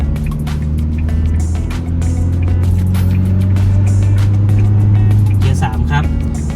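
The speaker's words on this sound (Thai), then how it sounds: "เราก็สามารถออกตัวที่เกียร์หนึ่งครับ ในความชันขึ้นเขาเหมือนเดิมครับ ตอนนี้ผมปรับเป็นเกียร์สองนะครับ" An Isuzu MU-X 1.9 SUV climbs a steep hill in second gear, its engine giving a steady, loud droning hum while someone talks over it.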